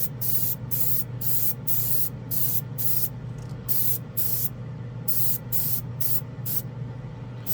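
An airbrush spraying chrome paint in a series of short, rapid hissing bursts, pulsing on and off rhythmically over a low steady hum.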